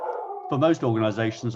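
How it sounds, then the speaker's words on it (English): A pet dog barks and howls for its supper indoors, a run of loud yips and howls close by, breaking in over a man's speech. "that's my dog needing his supper"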